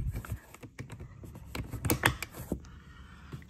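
Soft clicks and sharp snaps as a Tesla door trim piece is pressed back into place from the top down, several quick pops close up with no talk.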